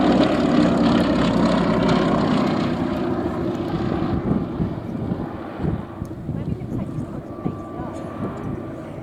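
A Westland Lysander propeller aircraft at an airshow, its engine drone loud and steady at first, then slowly easing off as it passes, with wind buffeting the microphone throughout.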